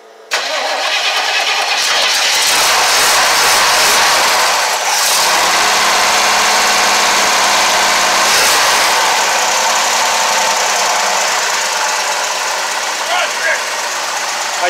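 A 1963 Nova SS gasser with a big-block 454 V8 cranks and fires up, then settles into a loud, rough, loping idle close by, with people talking over the engine noise.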